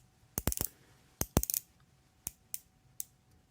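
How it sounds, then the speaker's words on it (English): The 90-click unidirectional bezel of a Loreo L9201G dive watch is turned, giving crisp, close clicks in small quick clusters followed by a few spaced single clicks in a quiet room. "The bezel is a 90 click unidirectional with really nice action and no back play."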